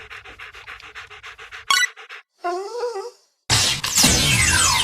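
Dogmeat, the dog companion in Fallout 4, pants in a quick steady rhythm close by, then gives a short whine and a brief yelp before a burst of loud game noise takes over.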